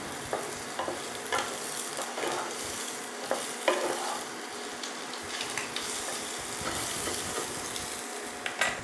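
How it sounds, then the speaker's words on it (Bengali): Potato and egg fry lightly in ghee for a Kolkata biryani, with a steady soft sizzle and intermittent stirring scrapes and clicks of a utensil in the pan, no voices. "ঘিয়ের সাথে একটু আলুটাকে হালকা করে ভেজে নেব, ডিম আর আলুটাকে।"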